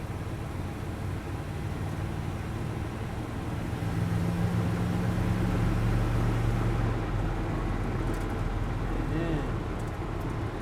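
Steady, loud road and engine drone fills the cab of a 1971 Chevrolet C10 Super Cheyenne pickup with a 454 cubic inch V8 while driving, a continuous low rumble with wind and rattle noise throughout.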